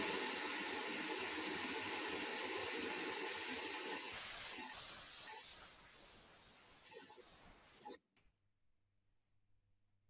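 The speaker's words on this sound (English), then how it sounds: "It will automatically play pink noise, and it will measure it." Steady broadband pink noise fills the room from a TouchMix mixer's measurement routine, loud and continuous, thinning after about four seconds and cutting off abruptly near eight seconds, leaving faint low hum.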